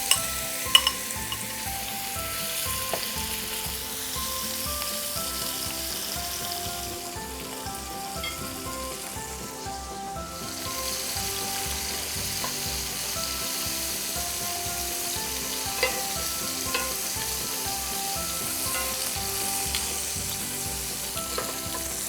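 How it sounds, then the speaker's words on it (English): Shrimps sizzle in hot oil in a pan for jambalaya pasta, with a steady, dense crackle throughout and occasional stirring scrapes, close and continuous, with no talking. "Once the oil is nice and hot, go ahead and add the shrimps"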